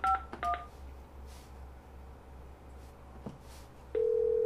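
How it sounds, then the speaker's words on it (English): Touch-tone DTMF beeps as extension 251 is dialed on a CyberData VoIP paging system phone: three short paired tones at the start, then a steady prompt tone near the end, over a quiet low hum. "Now, if I dial 251 on one of my phones here"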